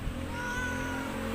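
Cats meow near a fishing spot as a freshly caught eel is handled, a thin sustained cry over a steady low hum and background noise.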